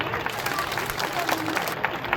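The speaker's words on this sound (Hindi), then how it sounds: "जोरदार तालियां इसके लिए भी।" Crowd applause at a college welcome event, a steady dense patter of many hands clapping throughout, with a voice faintly audible underneath.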